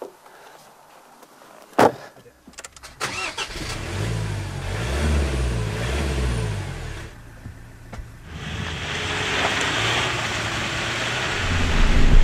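A Ford Ranger's 2.2-litre diesel starts from cold. A sharp click comes first, then the engine catches and settles into a loud, rumbling idle that shakes, and it revs up toward the end.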